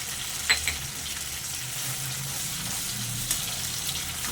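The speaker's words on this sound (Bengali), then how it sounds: "অল্প একটু জল দিয়ে মশলাটা ভালো করে কষে নেব।" A masala spice paste is stir-fried in a pan with a little water while cooking stuffed pointed gourd with prawns. It gives a steady soft sizzle with a few clinks of stirring, close and moderate, with no talk.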